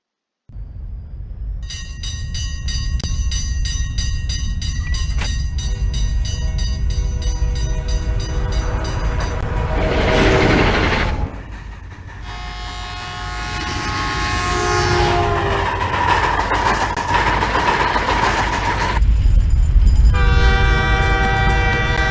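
A train horn in a Bacardi advert sounds in long sustained blasts over the steady rumble of a passing train, with clattering wheels and a final loud horn near the end.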